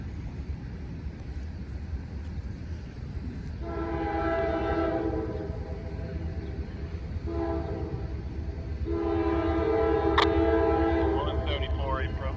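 A CSX train approaches a highway crossing near a fire station, sounding a horn in three sustained blasts over a constant low rumble of rail noise, moderately distant and heard alone.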